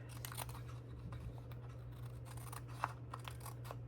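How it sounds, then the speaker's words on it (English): Scissors trim rough edges off a paper card in a close, quiet craft setting, giving a run of small crisp snips and paper rustles with one sharper cut near the end, over a faint low hum. "Just trim those rough edges off."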